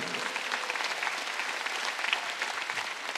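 A church congregation at a Sunday worship service claps together in a dense, steady wash of applause that holds at an even level throughout, heard from within the room.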